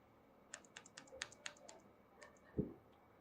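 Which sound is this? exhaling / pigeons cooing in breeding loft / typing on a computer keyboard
typing on a computer keyboard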